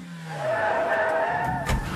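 A car drives fast and skids, with a rising engine tone, tire squeal and a rough scrape near the end, loud and close with no speech.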